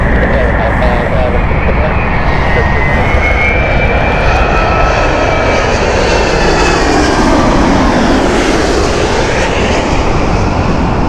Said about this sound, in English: our first arrival is coming in right now, which is British Airways from Atlanta